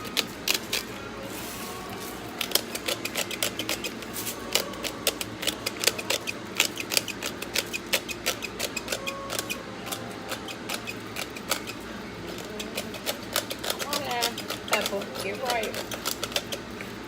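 Salt and pepper ground over trimmed green beans on an oven sheet, a steady rapid crackling grind of the mill running continuously under someone talking.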